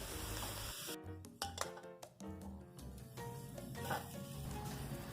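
Shallots, garlic and chili dry-roast in a pan as a utensil scrapes and clinks against the metal in quick, uneven strokes, with a soft crackle underneath, close and fairly quiet.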